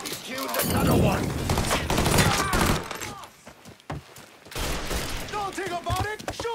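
Gunfire in the video game Mafia III, with bursts of shots crackling back and forth through a loud firefight while voices talk over the action.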